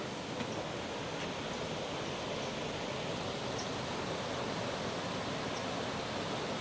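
A river flowing past a campsite, with access to the water, gives a steady broadband rush of moving water that holds even and continuous throughout, with no voices over it.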